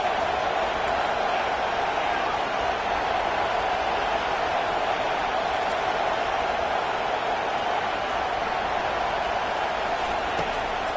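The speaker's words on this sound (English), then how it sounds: "Listen to this crowd just shaking the girders of this place" A football stadium crowd roars in a dense, continuous wash of noise that holds steady and loud from start to finish.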